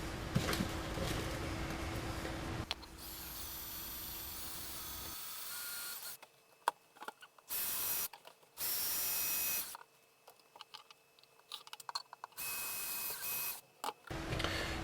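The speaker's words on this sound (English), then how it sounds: "Using your screwdriver or your drill, you're going to now insert your screws" Drill driving screws into a cabinet while installing plug-in cabinet lighting, several whirring bursts separated by silences, close and moderately loud with no talk.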